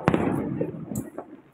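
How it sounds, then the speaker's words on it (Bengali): Diwali firecrackers bursting around a high-rise flat in Kolkata, a sharp pop followed by scattered, softer crackles and bangs at a moderate distance. "এই যে চারিদিকে প্রচুর বাজি ফাটছে"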